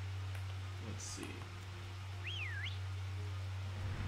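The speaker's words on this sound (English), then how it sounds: "Just whistle in front of the door and it opens." In Pokemon Sword, a short gliding whistle rises and falls in pitch in front of a door, over a steady low hum of game background sound.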